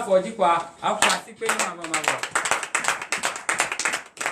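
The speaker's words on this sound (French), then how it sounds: "lève-toi sur tes pieds et donne l'acclamation à l'Éternel" A congregation at a morning prayer service in Benin claps in acclamation, sharp rhythmic hand claps repeating quickly and steadily after a short burst of speech, close and fairly loud with voices mixed in.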